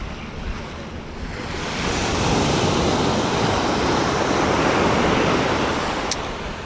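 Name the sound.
ocean waves at Bang Tao Beach, Phuket, Thailand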